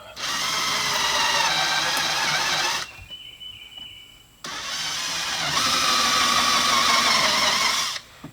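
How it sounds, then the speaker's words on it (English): A loud power drill whirs steadily drilling holes in a brand new vehicle's body, stops for a couple of seconds, then drills again before cutting off. "I cannot believe I'm drilling holes in a brand new vehicle."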